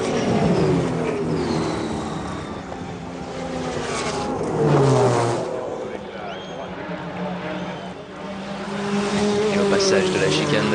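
Race cars in the 1995 24 Hours of Le Mans, a McLaren among them, roar and rev loudly at close range with rising and falling engine tones, while a commentator talks over the sound.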